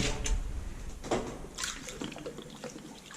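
Apple juice pours into a mojito cocktail at a roadhouse bar, a short, soft splash and trickle of liquid heard close by with no talk.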